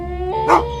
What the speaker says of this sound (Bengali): কুকুর আর শেয়ালের ডাক শোনা যায় থেমে থেমে